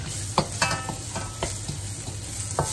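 Garlic and onion fry in a pan with a quiet, steady sizzle, while a utensil scrapes and stirs in several irregular strokes.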